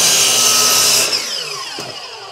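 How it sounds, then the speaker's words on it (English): A chop saw cuts through four clamped pieces of wood at once, a loud close whine that drops off sharply after about a second and winds down as the blade spins to a stop. "And we'll put them into the chop saw like that. I'm going to trim all 4 at once"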